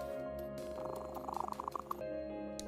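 A cat in the anime Toaru purrs softly as a low rhythmic rumble over background music, with no talking.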